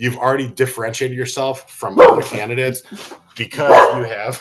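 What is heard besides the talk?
dog barking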